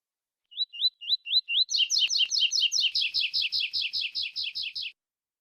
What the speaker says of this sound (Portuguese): Até os canarinhos já estão querendo criar aqui já, Eduardo.